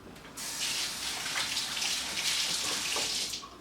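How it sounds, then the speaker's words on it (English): Tap water runs over hands being rinsed in a kitchen, a soft, steady splashing hiss lasting about three seconds before shutting off. "Let me rinse my hands."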